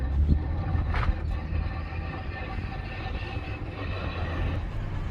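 A damaged Hyundai Genesis Coupe rolls along with a rough, rattling clatter and low road rumble, worst from the rear, steady throughout, with a few sharper knocks.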